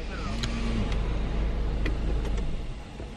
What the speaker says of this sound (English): Do you want me to turn the car off?